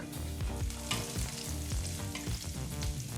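Asafoetida, garlic and two green chilies heat in hot oil with a steady, dense sizzle and crackle, close and continuous, with faint stirring scrapes and no talking.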